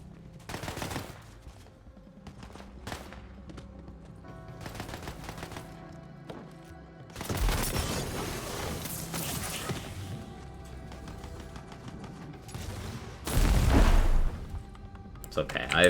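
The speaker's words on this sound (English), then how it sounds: "it's using a big boy rocket in this game" Rocket launcher blasts and explosions from a video game, with bursts of loud broadband booms and rattling impacts rising out of a busy game mix, the heaviest around the middle and near the end, while a voice talks over it.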